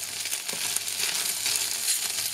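Leftover bread dumplings fry in fat in a pan with a steady, close hiss of sizzling, broken by a few soft scraping stirs.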